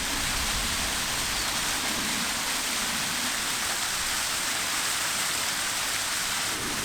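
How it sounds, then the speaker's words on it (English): A waterfall in the Brecon Beacons roars as a dense, constant broadband rush of falling water, loud and close with no pauses or voices. "And now, waterfall number 5. 4, waterfall number 4."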